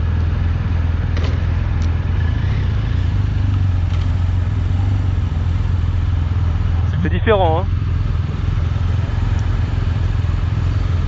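A BMW R1250RS motorcycle drones along on the road with a steady low engine rumble and wind noise, while a rider's voice speaks briefly partway through.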